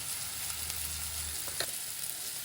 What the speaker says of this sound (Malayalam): ഇത് നന്നായിട്ട് ഒന്ന് വഴറ്റിയെടുക്കണം.